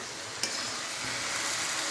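Vegetables fry in a pan with black cumin and onion, giving a soft, steady sizzle with one sharp stirring knock near the start.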